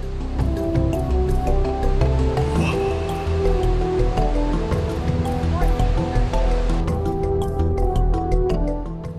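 Ocean surf crashing against towering limestone cliffs up to 100 metres high on the Nullarbor coast, a loud continuous roar and wash that fills the whole stretch without any voices.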